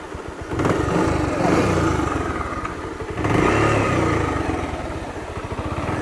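A Bajaj Pulsar motorcycle, ridden near Gangtok in East Sikkim, chugs with a rapid pulsing thump, rising in two revving surges before easing back toward idle, close and loud with no voices.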